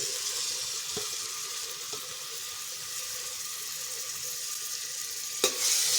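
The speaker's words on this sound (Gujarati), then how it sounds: "ડુંગળીને આપણે અહીંયા સતડાવા દઈશું" Continuous soft sizzling of crushed onion frying in a pressure cooker over a medium flame, fairly quiet and steady, with a couple of faint clinks and a sharper knock near the end.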